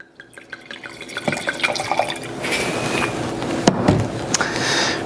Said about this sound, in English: Let's pour a proper sommelier sip and see what we got.